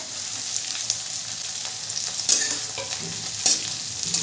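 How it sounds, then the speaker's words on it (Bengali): Mixed vegetables for Bengali navratan dal sizzle and crackle in a hot pan, browning, with occasional scraping strokes of a spatula stirring them; steady, close, no voices. "এইভাবে ভালো করে নেড়ে চেড়ে লাল করে ভেজে নেব।"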